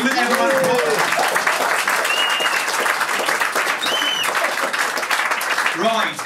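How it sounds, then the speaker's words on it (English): A live comedy show audience applauds a comedian coming on stage, a loud, continuous wash of clapping with cheers, and voices calling out over it at the start and end. "Everyone, applause."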